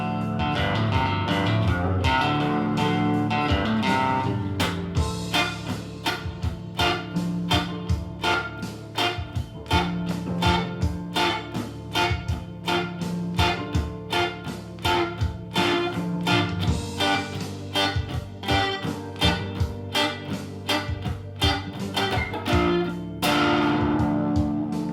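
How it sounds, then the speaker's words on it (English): Electric guitar offbeat chord strums landing on beats two and four, short crisp rhythmic stabs repeating steadily over a full, slightly distorted backing. "On the second verse he plays an offbeat pattern on the 2 and the 4 with chord strums"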